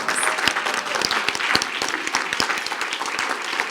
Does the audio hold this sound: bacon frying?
no